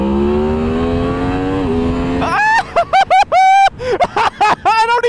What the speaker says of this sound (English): this is a 2023 Yamaha MT10SP 40 to 80 pull with 85 set on the speed limiter